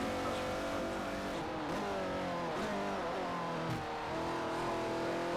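Car engine revving hard in a racing video game, the pitch climbing and dropping through repeated gear shifts, loud and continuous with faint tire noise.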